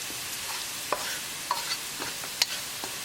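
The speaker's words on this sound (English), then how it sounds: "Cook tomato sauce along with tadka for 1 minute." Tomato sauce cooks with a spiced tadka of cumin, coriander, garam masala and black pepper in a pan, a soft steady sizzle broken by several light clicks of a spoon stirring against the pan.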